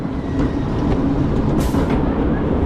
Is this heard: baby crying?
no